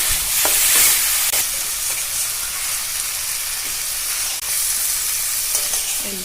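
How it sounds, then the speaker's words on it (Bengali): Mutton mixed with spices being stirred in a frying pan, a continuous loud sizzle and hiss with repeated clattering spoon scrapes against the pan. "এই যে খুব সুন্দরভাবে মশলাটার সঙ্গে মাংসটা মিশিয়ে দিয়েছে"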